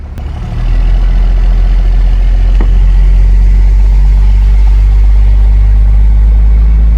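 A second-generation Mega Cab truck fitted with a swapped 6.7 Cummins diesel drones loud and close in gear, its deep steady rumble settling in under load after a short rise at the start.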